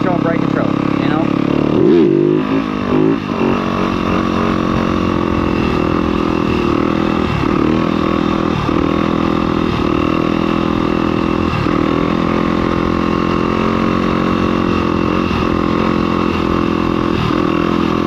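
A dirt bike engine runs steadily and loudly throughout, holding a buzzing drone with small throttle swells and dips, while a rider talks over it.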